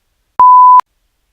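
A single pure electronic beep sounds alone, a steady mid-pitched tone lasting under half a second with clean starts and stops against silence.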